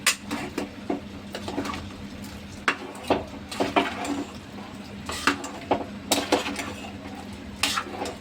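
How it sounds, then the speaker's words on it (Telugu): A spoon stirs garlic and onion paste into chicken curry in a metal pot, giving irregular scraping clinks and knocks over a low steady hum and faint sizzle, with no talk. "ఇప్పుడు వేసిన తర్వాత మొత్తం ఒకసారి కలుపుదామండి"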